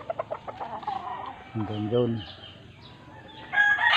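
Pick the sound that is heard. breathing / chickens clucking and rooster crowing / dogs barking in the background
chickens clucking and rooster crowing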